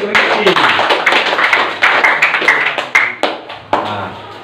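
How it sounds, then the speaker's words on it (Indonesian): A small audience claps close by and fairly loudly, with sharp, irregular hand claps that trail off in uneven bursts toward the end. "kita berikan tepuk tangan untuk Rizky"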